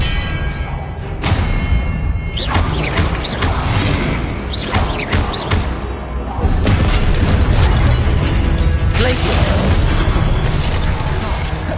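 Expelliarmus spell effects in Hogwarts Legacy gameplay on PS5: loud, close booming bursts and whooshing magical blasts repeat every second or two, with thuds and mechanical clatter layered over a continuous game soundtrack.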